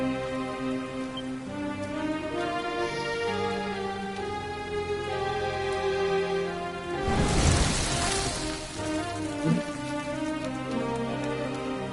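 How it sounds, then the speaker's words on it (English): Rain falls in the Dragon Quest 11 video game, a steady wash that swells in a loud burst near the middle and then carries on under a sustained musical score. "Looks like the rain's dying down."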